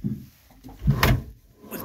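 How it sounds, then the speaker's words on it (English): A single drawer below a bed on a 2009 Nordic Tug 37 boat slides and thuds shut with a short wooden knock, followed by a softer rustle, close by in a quiet cabin. "You've got drawers below the bed"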